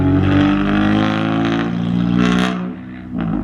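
A loud little Honda Civic pulls away, its engine droning with a rough, raspy exhaust that swells and surges as it accelerates off into the distance.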